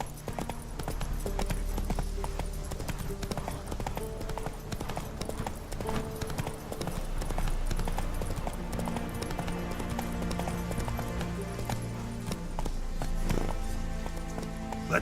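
The horse Roach galloping in The Witcher 3, rapid rhythmic hoofbeats thudding continuously over layered game music and ambient rain-like noise, fairly loud throughout.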